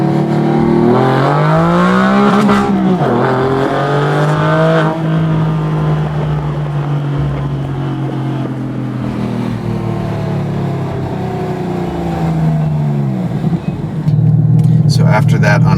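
A Porsche engine revs hard up toward its rev limiter, the loud, close engine note climbing and falling in long sweeps and holding a high, strained drone before surging again at the end.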